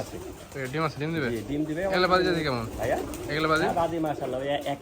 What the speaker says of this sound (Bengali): এগুলো এক দুবার দোবাজ কবুতর